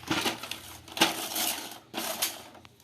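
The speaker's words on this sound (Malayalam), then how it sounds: "അപ്പോൾ നമുക്കിതിനെ അൺബോക്സ് ചെയ്യാം" A toy helicopter package is opened, plastic packaging crinkling and rustling up close with a sharp clack partway through, short bursts of handling noise.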